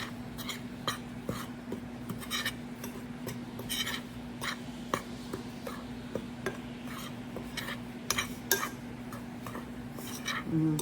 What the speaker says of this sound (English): So you mix all of that together to make your nice flour